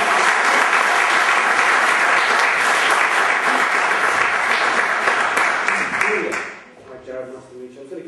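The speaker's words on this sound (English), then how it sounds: "round of applause for Julia" Loud, dense applause from a theatre audience at a stage mentalism show, sustained for about six seconds before fading into scattered claps and a speaking voice.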